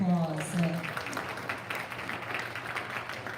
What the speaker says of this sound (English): give these market steer exhibitors a really big round of applause.